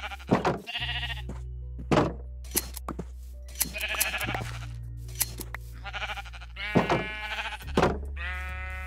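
Sheep bleat repeatedly in the video game Minecraft, a string of short, nasal bleats close by, scattered over a steady low background hum with a few soft thuds and little talking.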